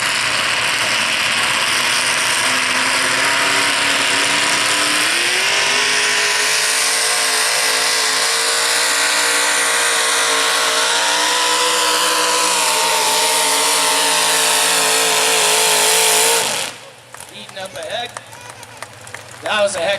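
A modified mini tractor-pull machine at a dirt-track pull in Odessa roars at full power for a long, loud run with rising revs and steady howling harmonics, then cuts off abruptly, leaving crowd noise and an announcer's voice.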